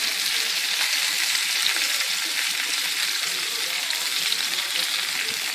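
Sliced squash hits a pan of frying onions for Southern-style fried squash, giving a loud, steady, even sizzle up close with no talking.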